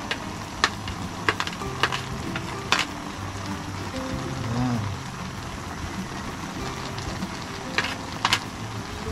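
Green chilli, onion and ginger sautéing in a pan, a soft sizzle under scattered sharp scraping clicks of a utensil against the pan, close and moderately quiet.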